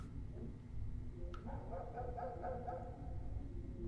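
Dogs barking in the video game Welcome To Kowloon, set in a dark apartment building; a run of several quick, muffled barks and yips in the middle, moderately faint, with no talk.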